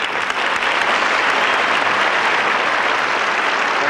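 Dense, loud audience applause at a 1978 celebrity roast, a sustained wash of many hands clapping at once that holds evenly from start to finish.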